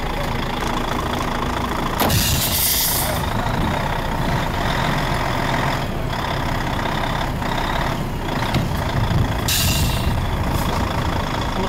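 A truck on summer tyres stuck on a snowy slope at the North Cape, Norway, its engine running steadily throughout, with a continuous mid-range rumble and occasional louder bursts, no talking.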